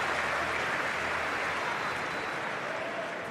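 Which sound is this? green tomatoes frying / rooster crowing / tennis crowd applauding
tennis crowd applauding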